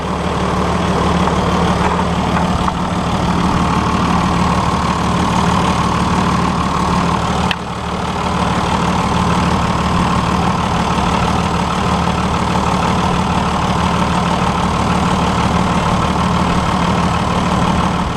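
A loud, steady 1999 24-valve Cummins diesel truck engine idles close by, a constant low rumble with a diesel clatter that holds unchanged for the whole stretch.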